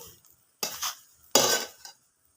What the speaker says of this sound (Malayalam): ഇത് കപ്പയും അരപ്പും എല്ലാം കൂടെ ചേർത്ത് ഒന്ന് മിക്സ് ചെയ്യാം